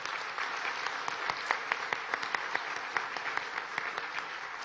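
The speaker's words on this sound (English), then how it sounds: "can we give him a round of applause?" Applause from a victory-speech crowd for Nevada Governor-elect Joe Lombardo's absent campaign chair, steady dense clapping with scattered sharper claps, moderately distant, lasting the whole stretch.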